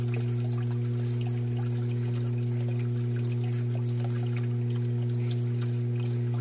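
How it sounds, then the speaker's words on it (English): Water spilling over into the container of an aquaponics bell siphon, a steady continuous trickle and pour with a strong low pump-like hum underneath, close and unbroken, no talk. "so now the water's flowing over"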